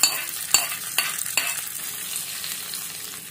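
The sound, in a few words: tempering (tadka) poured into rice for curd rice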